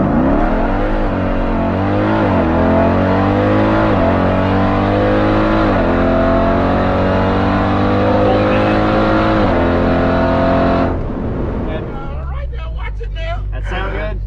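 A tuned 1000-horsepower Jeep SUV engine roars as it accelerates hard, pitch climbing through several gear shifts before dropping off and settling into a low idle.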